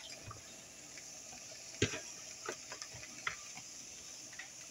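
Nopales cooking in a pan, a low steady sizzle broken by scattered clicks and light knocks of stirring, fairly quiet with no talking.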